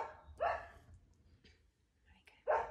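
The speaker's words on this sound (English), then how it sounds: "she's such a barky dog today." Dog barking indoors in a home kitchen, two loud close barks spaced about two seconds apart, with quiet room noise between them.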